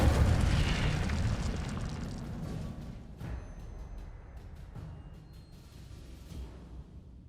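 A burst of fire from the Incendio spell in Hogwarts Legacy: a loud rushing roar that swells at the start, then settles into a steady crackling hiss with a few sharper pops and a slow fade.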